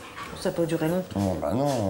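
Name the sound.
dog whining and yipping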